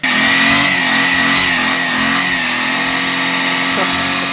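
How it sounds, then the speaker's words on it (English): A car engine roars at high revs as the clutch is dumped in first gear with the brake held, pitch sliding and shifting as the load changes, loud and close throughout with no pause. "Clutch in first gear, then you dump the clutch and slam on the brake."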